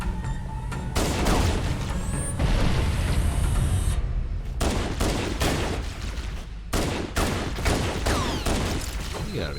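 Halo: Combat Evolved combat, with repeated bursts of rapid gunfire and heavy booms from grenade blasts, loud and close, cutting in and out over steady battle noise.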